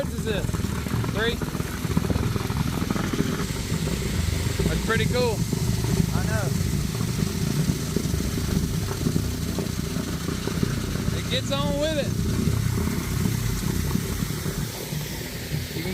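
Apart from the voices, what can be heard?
concrete truck engine idling while pumping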